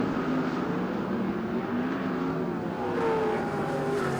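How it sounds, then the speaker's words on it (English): A sprint car engine at Ruapuna Speedway runs in a continuous rough drone as the car slows toward a stop on the track, loud and close with a shifting pitch and no talk. "That car's grinding to a stop."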